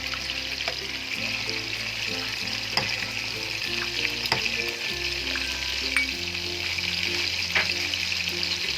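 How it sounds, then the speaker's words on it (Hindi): Chicken shinwari karahi fries and sizzles in oil in a pan, a continuous close crackle with occasional clinks and stirring scrapes. "मज़ीद इसको हम अच्छे तरीके से भूनेंगे जी"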